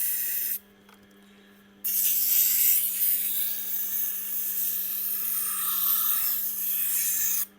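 A kitchen knife is honed on a spinning Tormek Blackstone 320-grit stone, a steady hum under loud hissing, rasping strokes that break off briefly, then resume as an even, sustained scrape close to the listener.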